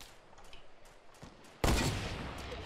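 Gunfire in the video game Fortnite: a quiet stretch of faint game ambience gives way to a sudden loud, close burst of shooting that keeps rattling on steadily to the end.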